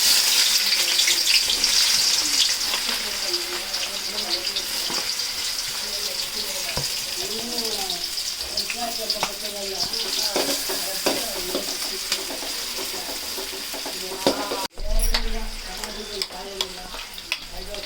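Onions sizzling in hot oil while being stirred with a spoon for a home-cooked Sunday non-veg dish, a steady loud fry with scraping strokes and a brief clatter near the end.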